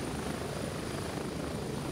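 Helicopter in the Gray Zone Warfare video game, a dense, steady rotor and engine roar that fills the whole short stretch at constant loudness, close and alone.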